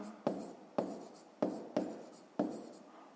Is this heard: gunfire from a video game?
no